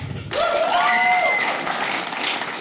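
A comedy club audience of cat owners breaks into applause, with a cheering voice riding briefly on top. The clapping starts abruptly, stays dense and fairly loud, then holds steady to the end.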